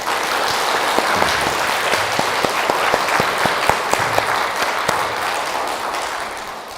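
A Catholic congregation at St. Michael's Church in New Jersey applauds in thanks to God, a full room of clapping with some sharp individual claps standing out over a steady, fairly loud wash that fades slightly at the end.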